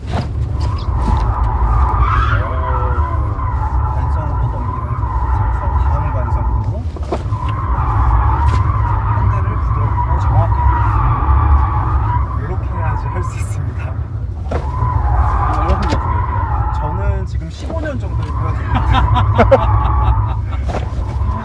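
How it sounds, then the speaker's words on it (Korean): A Kia EV6 GT electric SUV's tires squeal in long, wavering skids during inertia drifts, over a steady drone, stopping and starting again several times while a person talks throughout. "제가 차량이 날라오던 모습을 그대로 관성 드리프트로 넘기겠습니다"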